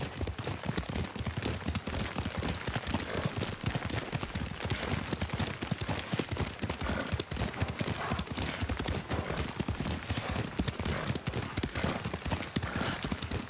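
Steady, rapid clip-clop of horse hooves at a gallop in the video game Ghost of Tsushima Director's Cut, continuous and fairly loud throughout with no pauses.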